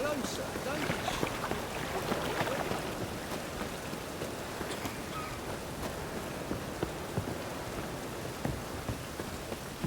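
Steady rain falls in The Witcher 3 game world, a dense even patter with scattered drops lasting throughout at moderate level.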